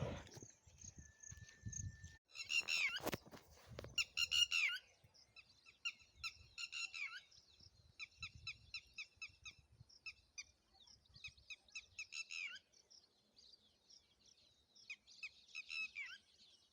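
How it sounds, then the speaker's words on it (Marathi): Outdoors near farm fields, birds call and squawk in repeated bursts, loud rapid chatter early on settling into rhythmic rounds of calls over a quiet background. "मस्त वाटते नाही का? पक्ष्यांचा आवाज, पाखरांचा आवाज"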